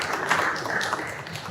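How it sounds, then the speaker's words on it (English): Applause from an audience at an art gallery curator talk, a short burst of scattered hand clapping with a hollow, echoing room quality, moderately loud and fading slightly toward the end. "that sounds like there's like a huge crowd with all that echoing of the applause"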